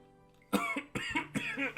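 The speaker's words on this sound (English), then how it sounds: "Okay, you're coughing a lot." Three harsh coughs in a row, close and loud, each a short burst following quiet at the start.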